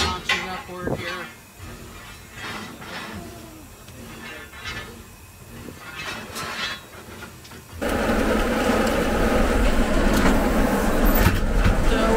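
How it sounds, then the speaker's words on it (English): The air pump on steam locomotive CNJ #113 in Minersville, Pennsylvania runs loudly during firing up, its steady rushing, throbbing hiss swelling partway through and continuing to the end, with some background noise early on. "they've turned the air pump on"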